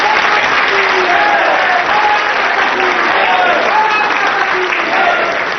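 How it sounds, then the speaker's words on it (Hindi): Audience at a televised public-court style show featuring Yogi Adityanath applauds steadily, a dense, continuous clapping crowd filling the room at full volume for several seconds, with faint overlapping voices beneath. "आप लोग ताली बजाकर बताएं कि आपको भरोसा है योगी जी के बारे में।"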